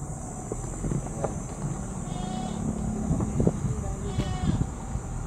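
A goat bleats a couple of times outdoors at a relaxed family outing, fairly distant and half-buried under people chatting and steady background noise.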